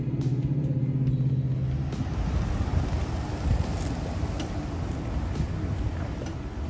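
A truck rumbles past close by, its engine drone and road noise steady and loud, with wind buffeting the microphone.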